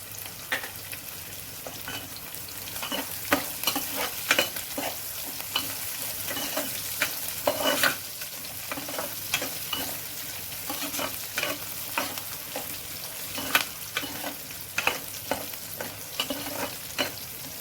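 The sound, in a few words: cumin and mustard seeds frying in tempering oil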